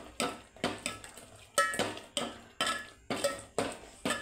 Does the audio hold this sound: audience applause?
no